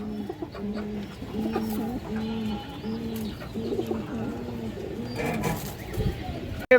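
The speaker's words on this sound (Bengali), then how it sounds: "যার পছন্দ হয় যার ভালো লাগে এই ফ্রেশ ইন্ডিয়ান হাইফ্লাই কালদম জোড়া নিতে পারবেন" Indian highflyer Kaldam pigeons coo in steady repeated rounds, close and fairly loud, with soft clucking and other birds faintly behind.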